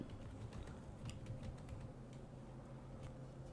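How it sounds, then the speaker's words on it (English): Faint, quick clicks of fingers typing on a keyboard, short bursts of light taps in an uneven rhythm against a low background hum. "What were you typing?"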